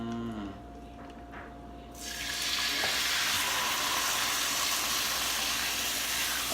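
Pork chops drop into a hot greased pan and burst into loud, steady sizzling that builds after a quieter start and holds strong to the end.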